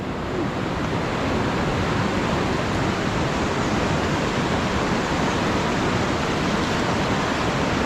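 The strong current of a river flooded after a typhoon surges in a constant, heavy, broadband roar, loud and near, with no break and no talk over it.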